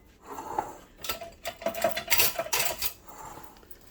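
Apple crisp filling is stirred with lemon juice in a bowl, making a few seconds of close, wet scraping and clinking of a utensil against the dish in uneven strokes, with no talk.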